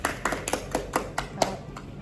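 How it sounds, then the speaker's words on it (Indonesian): Small audience clapping after a group presentation in a university social media class, a thin, evenly spaced run of sharp claps about four per second, close and clear with no talking over it. "Tepuk tangan semuanya."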